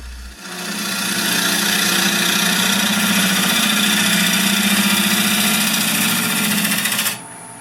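A wood lathe turns an urban lumber bowl blank as passes are made along the face, giving a loud, steady whirring drone that holds for about seven seconds before stopping abruptly.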